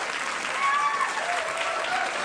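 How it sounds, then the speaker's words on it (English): Studio audience on a late-night talk show bursts into sustained applause, a dense wash of clapping that holds steady throughout with a faint murmur of voices mixed in. "You know why they're applauding?"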